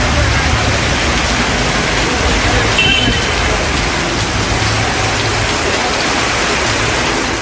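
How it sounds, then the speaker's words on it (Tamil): Heavy rain pouring in the Kanchipuram area, a dense continuous hiss of rain on surfaces with possible passing traffic beneath, loud and steady, with a news reader talking over it. "காஞ்சிபுரம் மற்றும் சுற்றுவட்டார பகுதிகளில் இடி மற்றும் காற்றுடன் கனமழை பெய்தது"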